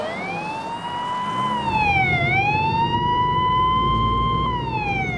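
A police car siren wails loud and near, its pitch sliding up and down in a long sweep, over a low rumble of passing traffic with no voices.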